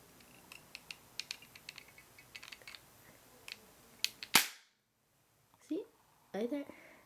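Airsoft Taurus PT93 replica pistol fired at close range, a series of sharp snappy shots spread irregularly, then a louder crack, silence and two faint clatters.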